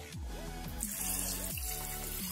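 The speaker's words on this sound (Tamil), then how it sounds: "நான் அரிசி களைஞ்ச தண்ணி ஊத்துறேன்" Rice-washing water poured into a goat trotter curry in a pot, a steady close liquid stream splashing and trickling for a couple of seconds.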